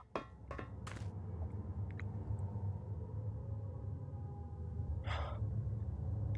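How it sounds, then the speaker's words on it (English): Unnerving, subtle breathing noises play over speakers inside a liminal map in GMOD VR, a low droning rumble under faint breaths, with a few sharp gasps early and a brief airy swell near the end. "The sounds playing over those speakers are incredibly unnerving, almost like subtle breathing noises"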